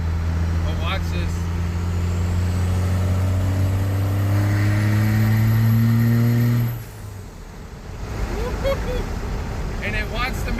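A pickup truck fitted with a semi-turbo revs hard, holding a loud, rising engine howl with turbo whine for several seconds before dropping off, while a voice talks under the noise.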